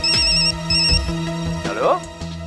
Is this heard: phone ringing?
yes